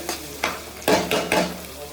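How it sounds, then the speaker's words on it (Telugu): Onions and green chillies with a little salt frying in a pan, sizzling steadily while a spatula scrapes and stirs in four distinct strokes, loud and close, with no talk. "ఇవైతే ఎర్రగా వేగిపోయినాయి ఉల్లిపాయలు"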